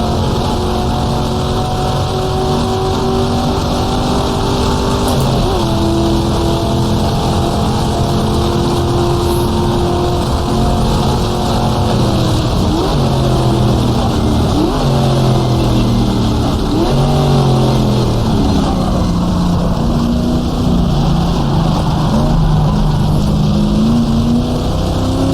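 Engine of a racing car in the GTR2 racing game at the 1966 Monza 1000km sportscar race, a continuous loud drone with harmonics rising and falling through gear changes, several engines overlapping near and far throughout.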